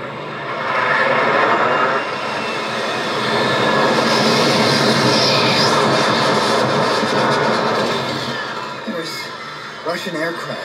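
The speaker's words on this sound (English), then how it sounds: "Russian aircraft." Russian military aircraft fly overhead in a wartime film scene, a loud, sustained roaring engine rumble that swells and fades over several seconds, with voices talking beneath it.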